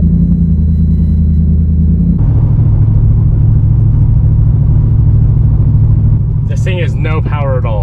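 Faulty supercharged BMW M3 with no power, unable to rev past about 2000 RPM, limping along: a loud, steady low engine drone and road rumble that shifts pitch partway, with someone talking near the end.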